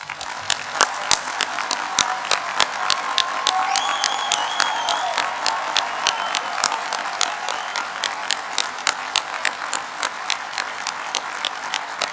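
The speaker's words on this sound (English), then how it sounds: "let's start today's ceremony by giving all of our amazing graduates a huge round of applause" A graduation-day audience at a Brighton degree ceremony claps for the graduates, with steady, dense applause running throughout and sharp individual claps standing out near the front, plus a few faint whoops above the crowd.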